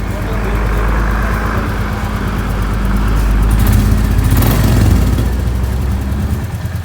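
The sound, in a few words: Royal Enfield motorcycle engine running after tappet adjustment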